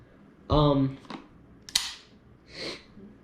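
Slide of a competition pistol with a stainless steel guide rod racked by hand, a few sharp metallic clacks and a brief click spread over a few seconds, close and fairly loud, with a short voice sound at the start.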